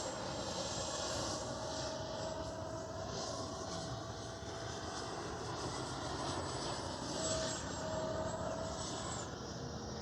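A Freewing F9F-8 Cougar 80mm EDF RC jet carrying ordnance passes overhead on a morning sortie, its steady, moderately distant whine and rushing roar holding at an even level throughout with no talk.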